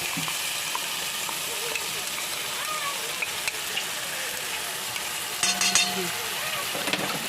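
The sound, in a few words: spice paste frying and being stirred in a pan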